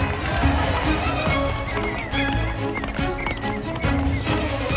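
Galloping horse hooves in Mafia The Old Country, a steady clip-clop rhythm running close and loud throughout, mixed with game music and ambient noise.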